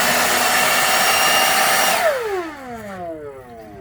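A DeWalt 20V/60V cordless jobsite blower roars loud and close with a steady high whine, then spins down after two seconds, its pitch sliding lower as the fan coasts to a stop.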